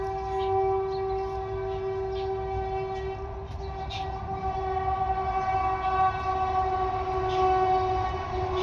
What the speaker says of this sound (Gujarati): જો ટ્રેન આવી,